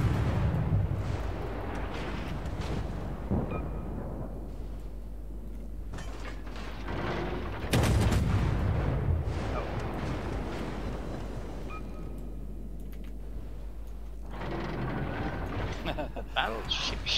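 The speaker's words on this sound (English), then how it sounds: "Battleship shooting at me." Heavy naval gunfire from battleships in the World of Warships game, with booming salvos and rumbling blasts rising and falling over a continuous low engine drone, while a player talks over the action.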